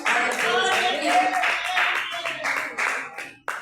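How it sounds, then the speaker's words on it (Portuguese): Church congregation clapping strongly during a worship service, a loud burst of rhythmic claps mixed with voices and singing, fading toward the end with a final clap. "vamos receber o serviço com as palmas bem fortes ao Senhor Jesus"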